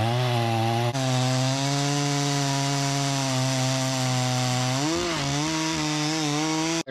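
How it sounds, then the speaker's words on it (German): A chainsaw engine drones loudly and steadily while cutting a log, its pitch dipping briefly as the chain bites into wood. "jetzt geht's gleich los mit der Sägearbeit"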